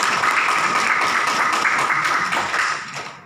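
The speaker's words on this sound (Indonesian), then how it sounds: "Aplaus untuk Crowd1" Steady applause from a seminar audience in Semarang, dense clapping held at an even level for about three seconds before fading slightly at the end, with no voices on top.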